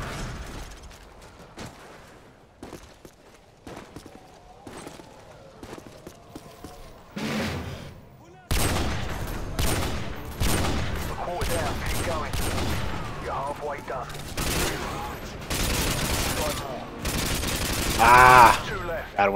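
In the co-op video game Sniper Fi, dense gunfire cracks and rattles in bursts, quieter and sparse at first, then a sudden jump into heavy, continuous shooting with overlapping shots and clatter.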